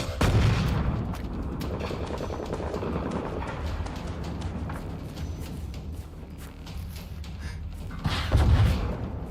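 Distant, muffled gunfire and heavy booming shots roll continuously through Generation Zero's open world, with louder bursts near the start and end.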